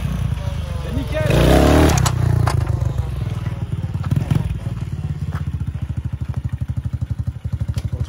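A motorcycle fitted with a swapped Kawasaki KLX 110 engine runs close by, a steady low putter with rhythmic pulsing, while people talk over it.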